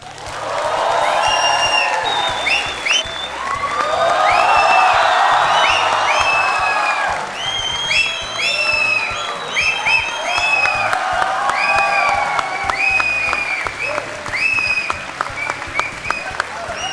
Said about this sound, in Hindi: और ये तालियां बजते रहें